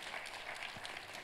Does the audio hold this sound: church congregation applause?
yes